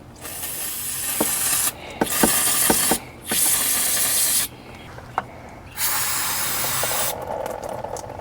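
Several long bursts of brake dust cleaner spray hiss close by on a motorcycle's brakes, separated by short pauses with faint clicks and mechanical taps.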